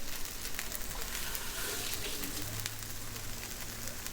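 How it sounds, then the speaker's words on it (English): Diced onions sizzling in butter in a pan while cooking down for chicken and shrimp fried rice, a steady close hiss that runs unbroken through the whole stretch with no one talking. "now I'm gonna go ahead and incorporate the onions that I diced up earlier with a little bit of butter."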